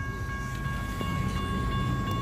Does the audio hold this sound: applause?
no